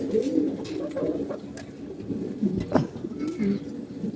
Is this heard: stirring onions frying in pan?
no